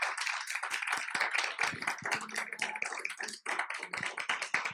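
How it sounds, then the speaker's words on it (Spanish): Church congregation clapping in a lively, uneven rhythm, many hands close by striking sharp individual claps, steady throughout with a brief dip near the end. "yo le voy a pedir a la iglesia que le dé un fuerte aplauso al Señor"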